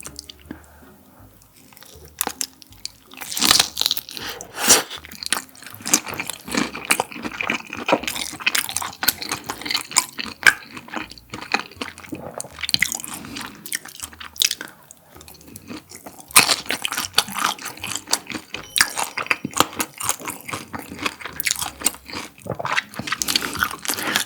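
Crunchy cream shrimp is bitten and chewed up close, with sharp crisp crunches and wet squishy chewing repeating irregularly and loudly throughout, alone without talk.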